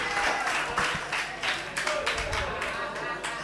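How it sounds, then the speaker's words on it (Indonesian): An audience at an Islamic lecture claps in a short, scattered round of applause that comes in uneven bursts, with a speaker's voice mixed in. "Yang ini kasih tepuk tangan ya."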